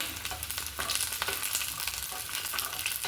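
Garlic fries in a pan until reddish, crackling in a continuous close sizzle broken by frequent stirring scrapes, with no talking.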